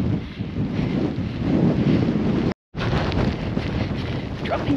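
Strong wind buffets the microphone in a heavy, roaring rush on a rainy Lake District fell during an ultramarathon, broken by a brief moment of silence before the gusting resumes.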